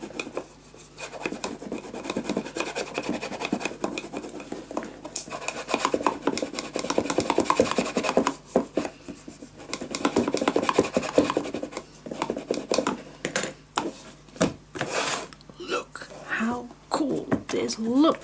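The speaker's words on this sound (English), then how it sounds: "just hold your hand under, and then you can burnish as hard as you want" Fragile paper craft piece being burnished by hand, with dense scratchy rubbing strokes in irregular bursts, close and fairly quiet, while a person talks throughout.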